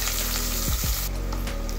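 Lengthwise-sliced onion hitting hot oil in a pan with crushed ginger and garlic for masale bhat: a close, steady sizzle with a few scraping stirs.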